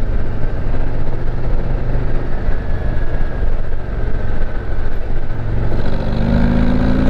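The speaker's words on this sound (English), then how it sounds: "Oh, I love the motor on these. That is a good sound" A Harley-Davidson Street Glide ST or Low Rider ST motorcycle engine on a test ride gives a loud, steady, close rumble, with a constant wash of road and wind noise throughout.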